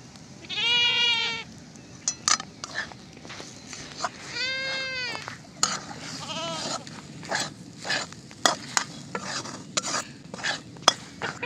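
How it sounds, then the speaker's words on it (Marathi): Turmeric being stirred into a frying stuffing mixture for stuffed okra, with a spoon scraping and clinking against the pan in irregular taps over a low sizzle, while a goat bleats loudly nearby a couple of times. "हळद टाकून चांगलं हलवून घ्यायचं असं"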